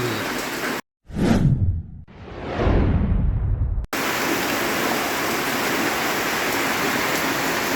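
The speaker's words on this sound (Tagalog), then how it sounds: "Grabe, lakas na naman ang ulan mga kapinas." Steady loud downpour of rain, broken briefly by a short gap and a couple of whooshing bursts before the dense hiss returns.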